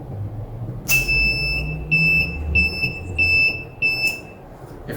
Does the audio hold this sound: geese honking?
no